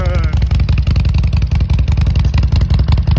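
A Harley-Davidson Forty-Eight motorcycle fitted with a new exhaust idles loudly and close by, its engine pulsing in a steady, lumpy rhythm with a brief rising whine at the start.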